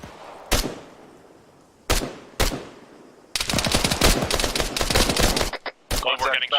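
Video game gunfire: a few loud single gunshots cracking at intervals, then a long rapid burst of automatic fire and more scattered shots, close and sharp with faint voices under it.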